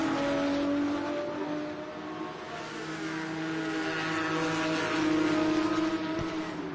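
GT race cars battling at Lime Rock, their engines droning and revving steadily throughout, a continuous loud roar of several cars with shifting pitch as they pass.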